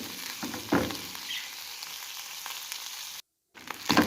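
Boiled liver frying in ghee with spices and a little salt, a steady crackling sizzle that continues evenly at close range and cuts out briefly before resuming.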